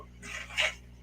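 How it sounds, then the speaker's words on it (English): A short, scratchy rasp of tape being peeled off a new air fryer's door, rising to a louder tearing pull near the end, close by with no talking. "that's the sound of the tape coming off the door"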